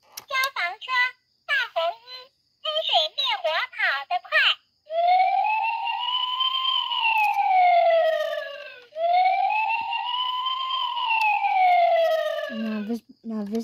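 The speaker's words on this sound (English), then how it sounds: "This is a fire truck." Electronic fire truck siren from a button on a child's toy steering wheel, two long rising-and-falling wails following a burst of short chirpy electronic sound effects, loud and close.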